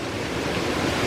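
Water rushing steadily down a channel at a grist mill in Cades Cove, Great Smoky Mountains, a constant broadband wash with no breaks, close and fairly loud.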